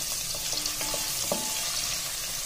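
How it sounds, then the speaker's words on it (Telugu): Ginger pieces frying in ghee, a close, continuous crackling sizzle with small pops and a few light utensil clinks, no voices. "ఈ అల్లం ముక్కలు కొంచెం ఫ్రై కావాలి"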